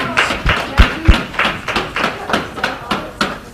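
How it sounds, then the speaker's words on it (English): Applause for the placing teams at a community education robotics competition in Paynesville, heard as a steady run of loud, rhythmic claps at close range from a small group. "another round of applause for all of our placing teams"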